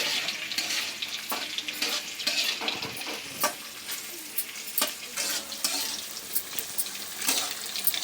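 Ameela, an Odia fermented rice-water dish, being prepared with something fried in hot oil until reddish: steady close sizzling and crackling with scraping stirs and occasional clinks, no voices.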